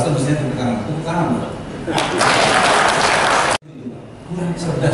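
An audience at an education talk claps in a burst of applause that swells for a couple of seconds and cuts off abruptly, with a voice speaking before and after it.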